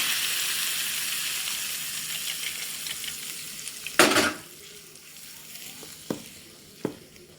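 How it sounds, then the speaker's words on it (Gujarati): A low frying hiss swells into a sudden loud sizzling burst as hot tempering is poured into coconut chutney, followed by quieter sizzle and two sharp stirring knocks. "આ વઘાર આપણે આની અંદર નાખી દઈશું હલાવી દઈશું"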